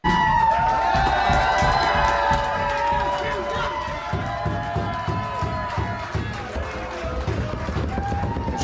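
A wrestling match crowd cheers and shouts at the close of the bout, a dense, loud roar of many voices with whoops that stays steady throughout, while individual voices call out over it.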